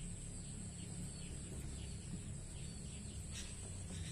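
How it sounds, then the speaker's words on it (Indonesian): Chickens and birds around a chicken coop, heard faintly at a distance as scattered clucks and chirps over a steady insect-like background hum, with no talking. "Suara burung"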